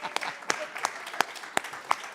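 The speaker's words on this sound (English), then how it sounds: "Big round of applause for Gills" A church congregation gives a short round of applause for the chef arriving to serve a pancake breakfast, sparse distinct claps from a small group with crowd murmur beneath.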